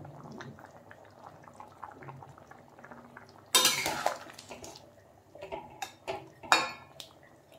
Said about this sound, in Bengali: এখন আমি মাছ দিয়ে দেব। এখন দিয়ে দেব গরম মশলা,